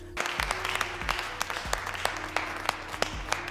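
Scattered group clapping in a movie jail scene, sharp hand claps arriving in an uneven rhythm over a low droning background.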